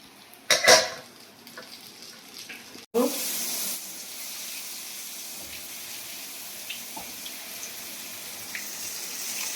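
Chicken chops frying in a pan give off a steady close crackling sizzle, with a few sharp clatters of utensils at the start before the frying hiss settles in.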